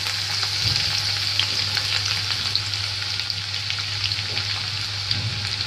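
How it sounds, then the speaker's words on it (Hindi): Half a cup of chopped garlic sizzling in hot oil in a kadhai, a loud, dense, steady hiss with a continuous low hum underneath, close and without speech. "यहाँ पर मैंने कढ़ाई में तेल ले लिया है, इसमें मैं हाफ कप चॉप लहसुन डाल दूंगी"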